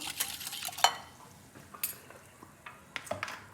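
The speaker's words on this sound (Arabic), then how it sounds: "كنخلطوها شويه بحال هكا تذوب لينا الخميره" A spoon scrapes and clinks against a bowl as yeast is stirred into warm water for a bread dough, a few quiet scraping strokes and taps, close by with no talking.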